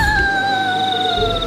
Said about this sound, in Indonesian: Suara serigala guys.